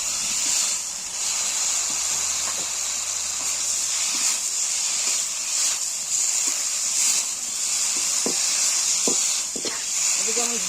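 Fried egg 65 pieces sizzle steadily in a pan, with a constant bright hiss and occasional soft clicks and scrapes of stirring.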